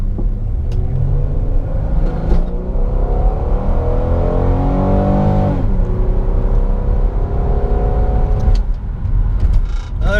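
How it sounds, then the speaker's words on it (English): A Chevrolet Impala 9C1 with its largest V6 accelerates hard from 0 to 60 mph, the engine note climbing steadily through gears with a shift around the middle, loud and close throughout. "So this is the biggest V6 you can get in the Impala 9C1 package."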